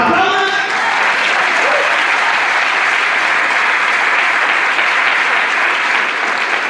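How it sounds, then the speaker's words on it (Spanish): A church congregation applauds loudly and continuously, a dense roar of clapping with crowd noise, briefly overlapping a voice at the very start before the clapping carries on alone. "Pero apláudenle así como si le aplaudes al Señor."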